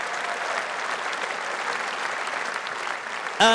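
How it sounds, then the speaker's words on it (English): A crowd at a political rally in Birmingham breaks into sustained applause, a thick, even wash of many hands clapping throughout, with a brief louder sound at the very end. "give a round of applause"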